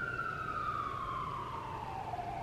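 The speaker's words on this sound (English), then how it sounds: "we'll wait for the sirens." An emergency vehicle siren in New York City wails steadily with its pitch slowly sliding downward, loud over a low traffic rumble, with no talking.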